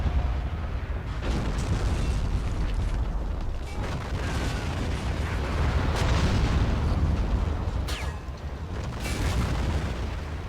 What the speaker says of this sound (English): That artillery is so friggin' cool.